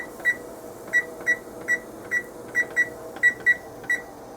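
An oven control panel sounds about ten short electronic beeps in a fairly even, quick rhythm as it is set, each tone clear against a quiet background.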